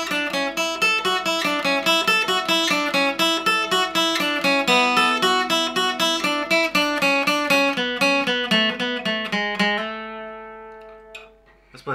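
A requinto guitar plays the full opening riff as a continuous run of plucked notes with steady rhythm and clear attacks, close and solo, ending on sustained notes that die away.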